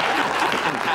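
Dense, loud audience clapping fills a brief moment on a talk show set, a continuous wash of hands with speech mixed in.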